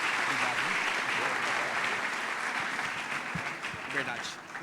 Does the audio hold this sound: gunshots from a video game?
no